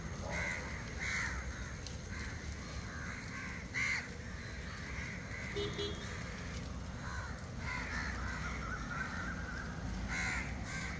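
Urban crows swarming among coconut trees in Mapusa caw continuously, many birds calling at once from near and far over a steady outdoor background.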